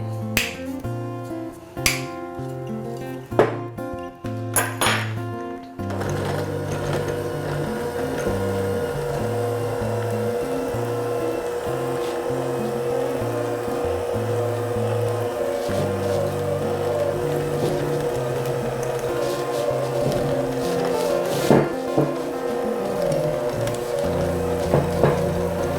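An electric mixer beats powdered sugar and pure maple syrup into icing, a steady motor whir with a rhythmic pulsing hum that runs throughout, after a few clicks and knocks at the start.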